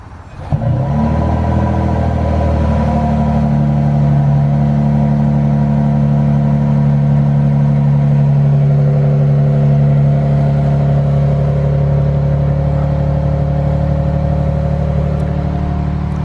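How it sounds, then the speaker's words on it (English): A 2022 Toyota Tundra TRD Pro pickup engine starts up and settles into a loud, steady idle with a deep drone through its TRD exhaust, running close by. "I got the nice black TRD exhaust, which sounds pretty decent"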